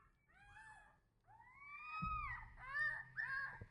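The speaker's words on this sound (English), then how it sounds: "Here's them howling." De-extinct dire wolf puppies howl in thin, rising and wavering cries, several overlapping young voices that are soft and fairly close, with a low rumble underneath.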